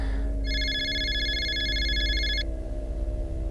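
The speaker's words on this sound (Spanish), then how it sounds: "Sonó el teléfono." A telephone in a quiet motel office rings with a single steady electronic trill lasting about two seconds over a low background rumble.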